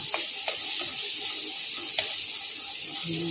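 Food sizzles steadily in a pan on a home stove, a constant bright hiss with occasional small pops and a faint stirring scrape near the end.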